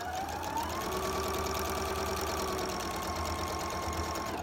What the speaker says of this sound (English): It's a Viking, which I am in love with. And we're just going to keep sewing down that 1/4 inch seam.